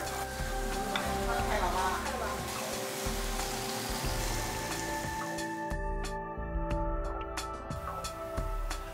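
Pheasant braising in a pan with garlic and mustard greens sizzles and crackles steadily up close, with scattered pops, stirring scrapes and a faint murmur of voices in the background.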